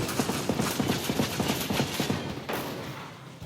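Rapid bursts of AK74 rifle fire in Ghost Recon Breakpoint crack out in a fast, evenly spaced string of close, loud shots, then stop abruptly.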